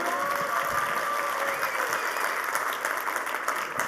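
Steady, dense applause from a conference audience fills the room at close range, loud and continuous throughout with no talking.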